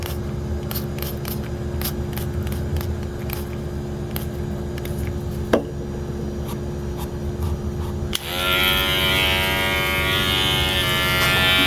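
An electric hair clipper buzzes steadily nearby after its blade has been oiled, a continuous motor hum that shifts to a louder, brighter whine partway through, with no speech.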